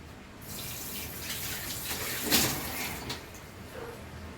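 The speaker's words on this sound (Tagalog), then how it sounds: "Lalagay tayo ng kaunting tubig." A small amount of water poured into a cooking pot for a Filipino tomato fish stew, a steady running, splashing flow lasting a few seconds with a brief louder surge midway, close by and with no talk.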